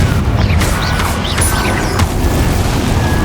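Confringo spell explosion in Hogwarts Legacy, a loud continuous booming blast with crackling debris and mechanical rumble, no voice heard.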